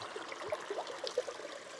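Water flows along a small stream or canal, a steady, soft rushing with faint bubbling trickles. The sound is continuous and close, with no voices.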